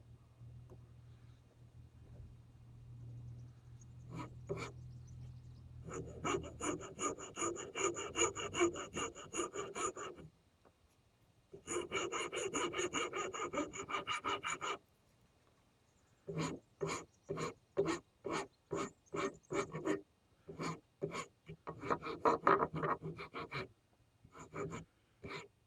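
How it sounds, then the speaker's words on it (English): Sandpaper rubbed by hand over a wooden loom part: a long steady rasp, then sustained scraping passes, then rapid rhythmic back-and-forth strokes, close and fairly quiet, with no voices. "Pretty much a sandpaper job, that."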